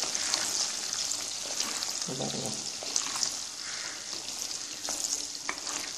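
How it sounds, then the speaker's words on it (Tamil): Seeded amla gooseberries fry in oil for pickle, making a steady, moderate sizzle with occasional stirring clinks and scrapes, close and without any talking. "நம்ம கொட்டை எடுத்து வச்சுருக்கிற நெல்லிக்காவை நல்லா இந்த எண்ணெயிலே ஃப்ரை பண்ணணும்"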